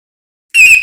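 A single loud beep from the electronic buzzer of a rechargeable Li-ion flashlight starts abruptly after a short silence, steady and piercing with bright harmonics.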